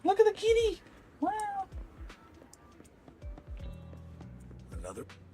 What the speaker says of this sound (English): Look at the kitty! Wow!